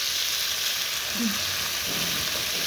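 Fish fries in a pan with a dense, steady hiss of sizzling oil that holds evenly throughout, with only a faint low murmur beneath it.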